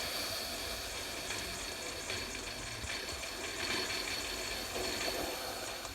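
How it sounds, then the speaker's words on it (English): Steam hisses steadily from a Sboly coffee maker, a constant broadband rush with no one talking over it. "Oh, steam."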